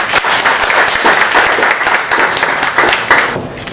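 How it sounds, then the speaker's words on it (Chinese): Audience applause welcoming a lecturer to a talk on radiation myths, steady dense clapping throughout, loud and close, with no talk over it. "我们鼓掌欢迎"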